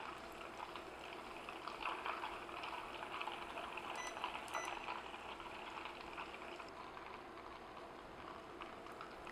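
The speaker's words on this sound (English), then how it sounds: "I can just start to see the butter browning on the bottom, and the sputtering sound is getting less and less" Butter browns in a saucepan with a busy, steady sputter and crackle, a close, even frying hiss that holds from start to end.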